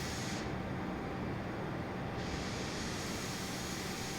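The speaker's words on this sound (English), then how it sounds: "Well, that's our airplane." Steady, continuous engine roar of an Airbus airliner in Microsoft Flight Simulator 2020, filling the whole stretch at an even, fairly loud level with no talk over it.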